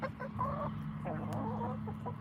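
Pet backyard hens clucking and chattering close by, a steady run of short warbling calls under a low background hum, with faint human speech at times.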